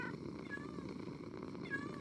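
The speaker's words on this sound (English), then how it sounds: "Listen to the purring." A cat purrs softly and steadily in a video game, a faint continuous rumble with a couple of brief high tones over it; no talking.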